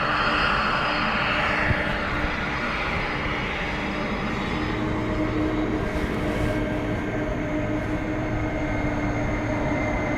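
Steady, loud roar of a jet airliner's engines taking off at Dublin Airport in blustery crosswinds, a sustained rumble with a whining tone holding evenly throughout.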